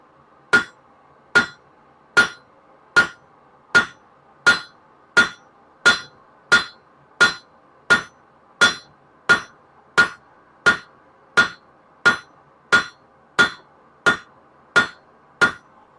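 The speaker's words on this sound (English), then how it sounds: "so that I can hit it with the cross peen hammer, which I'm going to do right now" A blacksmith strikes hot steel on an anvil with a cross peen hammer while forging a door latch, about twenty evenly spaced ringing blows, loud and close, with no talk between them.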